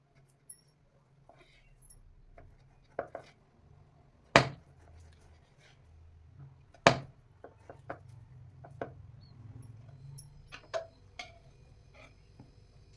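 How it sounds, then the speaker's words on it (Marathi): A knife cuts chilled, set semolina dough into long strips, giving a few sharp, sparse taps and clicks against the board, quiet and spaced apart with no talking. "आता याचे आपण काप करून घेऊया मी इथे असे याचे लांबडे काप करून घेणार आहे"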